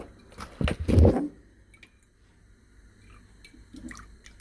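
Fresh pandan leaf water being squeezed and draining for a Lao dessert, a brief wet squelchy splash up close followed by quiet, sparse drips and faint trickling.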